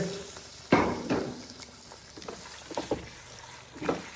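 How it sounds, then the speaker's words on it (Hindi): Mutton pieces go into browned onions in a pot for a sohanjna curry. A soft, faint sizzle carries throughout, broken by a few spoon clanks and stirring knocks. "ब्राउन प्याज में ही देखें इस तरीके से डालता हूं मैं अपना गोश्त"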